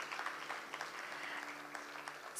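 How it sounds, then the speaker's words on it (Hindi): Applause from the audience at a thumri classical music festival, a faint, steady patter of clapping heard from a distance, with no voices over it. "ताली एक बार फिर।"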